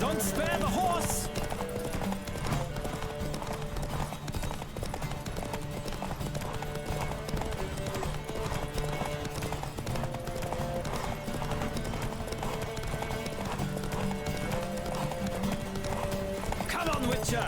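Galloping hooves pound in a steady, unbroken rhythm through a horse race in The Witcher 3 video game, with whinnies breaking in, under music and voices.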